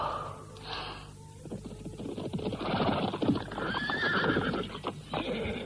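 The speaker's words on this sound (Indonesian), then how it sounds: "Aku seperti mendengar suara kuda." A horse neighs loudly and snorts while its hooves clip-clop steadily in an irregular rhythm nearby, with shrill whinnies rising over the trotting.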